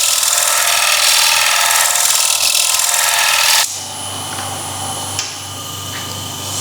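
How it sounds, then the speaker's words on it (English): A negative rake scraper rasps loudly against a spinning wooden bowl on a lathe, a harsh continuous scraping that stops abruptly partway, leaving the lathe's quieter hum alone. "So this is the convex or square negative rake, and you can see we just can gently tickle the surface"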